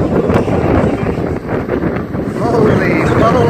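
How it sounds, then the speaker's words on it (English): Strong wind buffets the microphone in continuous roaring gusts, with a brief lull midway before the blustering picks up again. "It's freezing out here. It's so windy."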